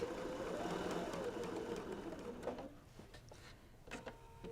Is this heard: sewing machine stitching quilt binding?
yes